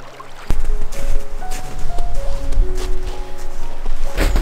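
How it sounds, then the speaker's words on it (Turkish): A waterfall runs in a snowy forest, producing a constant rushing wash of water close by, with a few brief tonal sounds rising over the flow. "Burada şelalesi var, gel."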